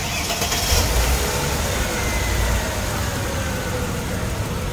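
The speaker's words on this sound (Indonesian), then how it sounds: "saya bakalan hidupkan mesinnya" A car engine running after a partial rebuild, heard as a steady, close mechanical hum with an even idle and no talking.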